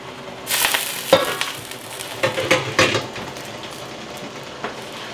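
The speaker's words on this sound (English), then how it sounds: "I'm going to stir them up." Blanched greens are stirred by hand in a bowl of cold water, giving a few close splashy swishes and clinks in short bursts, then quieting.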